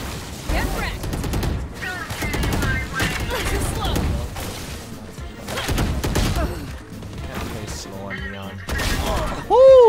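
Rapid gunfire and impact sounds from a round of the tactical shooter Valorant, bursts of shots and crashes over game effects, with voices talking throughout.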